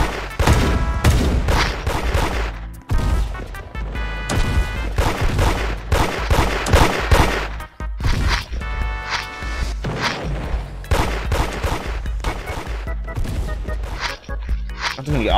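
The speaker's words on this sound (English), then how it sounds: "Why are you shooting at me?" Gunfire in the Roblox game Da Hood: rapid, loud bursts of shots and clattering volleys go on without a break, close and dense, with scattered thumps and footsteps in between.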